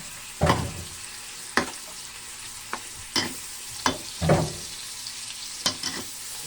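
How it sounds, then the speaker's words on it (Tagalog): Mung beans with spinach and tofu stir-fried in a pan, a steady sizzle punctuated by about nine sharp scraping strokes of the spatula at irregular intervals, near and fairly loud. "Stir fry lang natin mga kapalangga, pati yung ating tofu."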